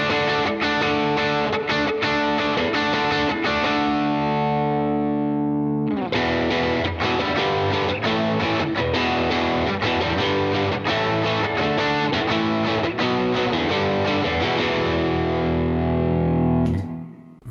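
Electric guitar on the bridge pickup through overdrive, delay and reverb, loud sustained distorted chords and notes ringing out continuously, with a brief dip midway and a ringing tail cut off at the end.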